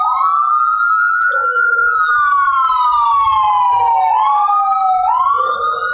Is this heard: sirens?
yes